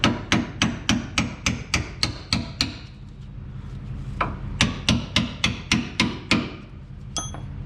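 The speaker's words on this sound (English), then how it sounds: "a little help from the old trusty hammer" Rapid metallic hammer strikes driving a bolt into a drop shackle on a Chevrolet Silverado truck, a fast even series of close, sharp blows, a short pause, then another run of hits, no talk.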